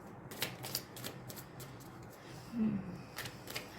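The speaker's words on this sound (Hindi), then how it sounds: "let me just shuffle a few more cards" Tarot cards are shuffled by hand, giving a series of quick, crisp riffling and flicking bursts, soft and close in a quiet room.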